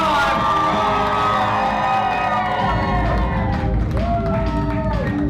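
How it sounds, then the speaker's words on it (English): Wedding reception guests cheer and whoop loudly for the newlyweds, shouting voices and some clapping layered over a busy, lively room. "I want to hear one more huge round of applause for your newlyweds, Wes and Olivia."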